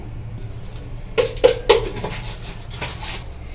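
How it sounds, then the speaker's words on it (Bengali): Whole cumin and coriander seeds are stirred in a dry kadai with no oil, giving several sharp metallic scrapes and clinks close up, then quieter rattling in between. "শুকনো কড়াই একটু নেড়ে ভেজে নেবো ভালো করে"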